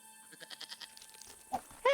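A goat in the video game Broken Sword: The Serpent's Curse gives a short nasal bleat, quiet at first and then louder, over a low background hum.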